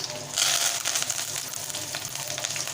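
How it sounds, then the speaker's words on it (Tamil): Mustard seeds, urad dal and chana dal crackle and sputter in hot oil with curry leaves and green chillies, a dense steady sizzle with bright popping that rises sharply early on and carries on close and loud throughout. "இப்போது நான் கடுகு, உளுந்தம்பருப்பு, கடலைப்பருப்பு சேர்த்துக்கிறேன். இது நல்லா பொரியட்டும்."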